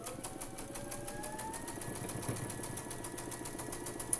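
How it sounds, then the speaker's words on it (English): A domestic sewing machine runs in a steady, fast, even rhythm while stitching two quilt pieces together along a seam. The sound is quiet and close, with no talking. "So we're going to sew those 2 together."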